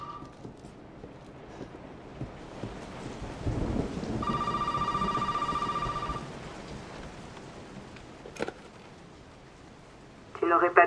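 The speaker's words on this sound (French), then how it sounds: "Le téléphone il sonne alors qu'il est mort." In the horror game Resident Evil 7, a telephone rings with a sustained electronic bell trill amid rain and thunder, with a voice speaking and other game noises around it.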